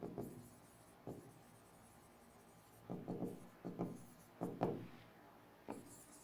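A close, faint scratching of writing on a board comes in short, irregular strokes, a few isolated ones first and then a quicker cluster of several, with no speech over it.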